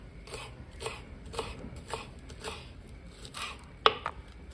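Kitchen knife chopping frankfurters into small pieces on a board, a steady series of crisp taps about twice per second, close and clear, with one sharper knock near the end.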